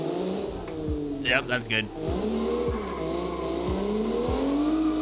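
A car engine revs continuously in the BeamNG driving game, a loud, rising and falling roar with gear-shift dips and brief squeals, while someone speaks briefly over it.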